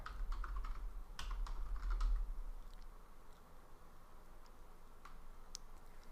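Fast, irregular key clicks from typing an IP address on a computer keyboard, close and fairly quiet over a low steady hum, with a brief lull partway through.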